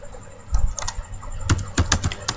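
Keys clack on a computer keyboard in a short, uneven burst of taps, close and fairly crisp, with a couple of quick clusters near the end.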